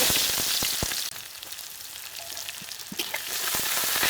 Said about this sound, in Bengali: পেঁয়াজটাকে এখন ভেজে নেব